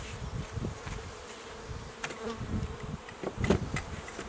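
Honeybees buzz in the top box of a hive being opened for a spring inspection. A dense, close swarm hum swells and fades in soft pulses, with no talking.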